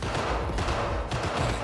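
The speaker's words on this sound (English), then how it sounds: "There's significant gunfire." Dense, continuous gunfire in the video game Cyberpunk 2077 rattles as rapid overlapping shots, fairly loud and steady for the whole short stretch with no talk over it.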